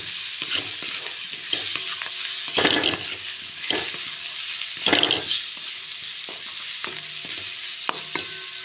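Potatoes and pumpkin being sautéed and stirred in a hot oiled pan for a Bengali prawn curry, with a steady close sizzle, spoon scrapes and several louder stirring bursts throughout.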